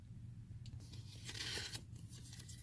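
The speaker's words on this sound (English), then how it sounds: "we're gonna take it out of the packaging and see what's inside the box" A dash cam is pulled from its box, with quiet tearing and crinkling of paper and plastic packaging in a short burst of rustles up close.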